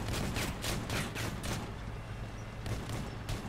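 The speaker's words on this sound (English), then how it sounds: "Oh, shotguns!" Shotgun fire from armored vehicles in the video game Crossout: a rapid series of heavy, muffled blasts in a loose rhythm, fairly distant and dull, over a constant low engine rumble with no talking.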